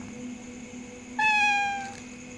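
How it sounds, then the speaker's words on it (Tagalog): A black cat gives a single clear, drawn-out meow at close range, rising then fading over about a second against a quiet background. "Ay, Nay, pusa oh."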